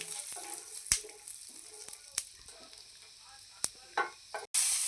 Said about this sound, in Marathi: तेल टाकून घ्यायचं त्यावर आपल्याला सुरुवातीला शेंगदाणे भाजून घ्यायचे आहेत म्हणजे साधारण तळूनच घ्यायचे आहे